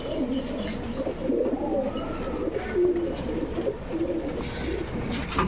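Pigeons coo steadily and close in a loft holding birds kept for sale in Bangalore, their low rolling calls overlapping in a continuous chorus with rustling around them.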